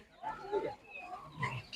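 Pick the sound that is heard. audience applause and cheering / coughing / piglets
piglets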